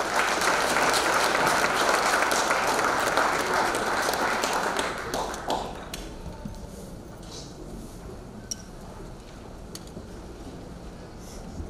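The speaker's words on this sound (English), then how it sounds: "a round of applause for Health First" An awards ceremony audience claps loudly for several seconds, then the applause thins to scattered claps and faint murmurs in a large hall.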